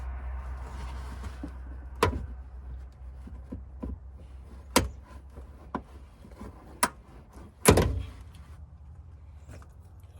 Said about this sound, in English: So just get your pry tool and dig in between the lips.